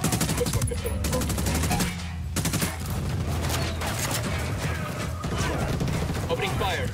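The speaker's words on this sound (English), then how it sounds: "Opening fire." Rapid automatic gunfire bursts in a tactical shooter video game fill the mix, loud and dense with brief pauses, while game voices speak over it.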